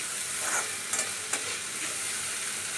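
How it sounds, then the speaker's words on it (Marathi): Onion and spring onion greens stir-fry lightly in a pan, making a continuous hissing sizzle with a couple of soft spatula scrapes near the start, no voices. "थोडंसं परतून घ्यायचं हलकं हलकं।"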